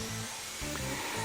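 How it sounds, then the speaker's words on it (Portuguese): An electric drill spins at full speed boring a hole, a steady high whine with a couple of brief dips in pitch as the bit bites, fairly faint and alone. "Quando você for iniciar o furo, gire a rotação da máquina ao máximo e aí você inicia o furo"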